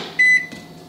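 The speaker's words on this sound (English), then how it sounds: "throw it in the microwave" A microwave oven melting a stick of butter gives a short pair of electronic beeps, then a soft, low running hum continues alone.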